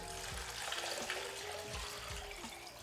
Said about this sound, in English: We're ready to add our stock.